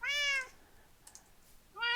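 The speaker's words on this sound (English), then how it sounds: "I hate working with these stupid cats." Two clear meows from cats in a video game, one at the start and another near the end, close and bright, with a faint click and quiet background between them.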